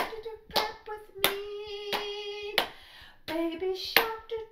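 Sharp, close hand claps land at intervals along with a sung children's song, crisp individual smacks separated by stretches of melody in a preschool rhythm activity.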